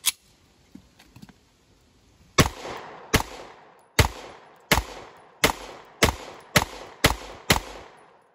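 A Glock pistol fitted with a PSA Micro Dagger slide fires at a range, nine sharp, loud shots at a steady, slightly quickening pace, each followed by a short echo, after a few quiet handling clicks.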